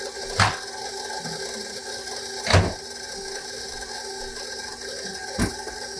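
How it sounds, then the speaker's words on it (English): Stand mixer starting to combine wheat bread dough ingredients, giving three sharp mechanical clicks or clunks spaced about two seconds apart over a steady low whir, close and fairly loud with no talking. "I'm just gonna let that start to mix a little bit"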